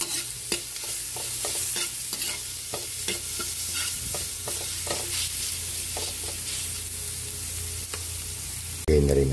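Garlic and ginger fry in a pan for a Filipino chicken tinola, a steady loud sizzle broken by scraping spatula stirs and clacks, ending in a brief louder burst.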